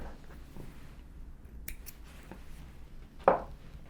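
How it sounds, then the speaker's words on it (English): Scissors give a single faint, sharp snip through sewing thread for bookbinding, preceded by soft handling noises in a quiet room. "Let me take my thread and cut it to a random size."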